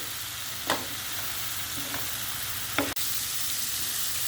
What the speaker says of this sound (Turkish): Ve karıştırmaya devam ediyorum.